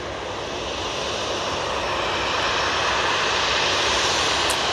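A Jet2 airliner, flown by another carrier on Jet2's behalf, takes off from Manchester Airport with a loud, steady roar of jet engines at close range, unbroken across the whole stretch.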